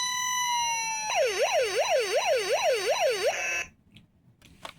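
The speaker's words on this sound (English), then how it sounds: "Yep, these are the sirens." A Hess toy truck siren rises and falls in a rapid wailing cycle, loud and electronic, then cuts off abruptly leaving faint handling noise.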